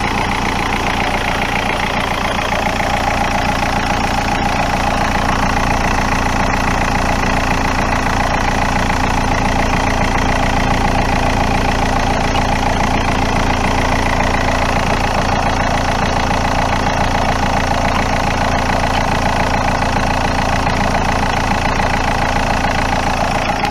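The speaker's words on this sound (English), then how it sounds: "So what I'm going to do is fire the engine up and let you listen" A Rover 75 CDT diesel engine idles steadily and loudly throughout, a continuous even rumble with no talk over it.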